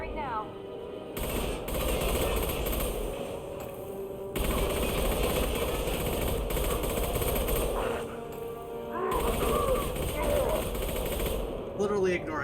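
Sustained automatic gunfire in the Mass Effect 2 video game, loud rapid bursts with short pauses between them, a voice speaking briefly over the shooting.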